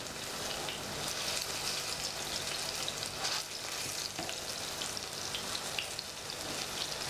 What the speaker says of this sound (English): So the plantain them are frying nice.